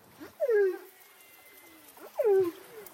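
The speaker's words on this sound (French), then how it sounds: "Et les baleines utilisent beaucoup cette forme de communication. Voilà, elles sont en train de chanter." Humpback whales singing underwater off Espírito Santo, Brazil: two long, moaning, downward-sweeping calls with rich overtones, about two seconds apart, over a faint, steady hiss.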